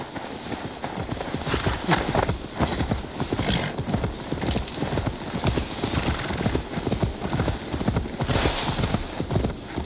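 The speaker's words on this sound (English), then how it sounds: "Now to deliver Magni his horse." Steady clip-clop of horse hooves at a quick pace in the video game Assassin's Creed Valhalla, loud and close, continuing throughout with a busy, rumbling background.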